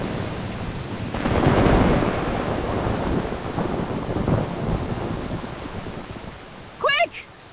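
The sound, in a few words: thunderstorm with heavy rain, audio drama effect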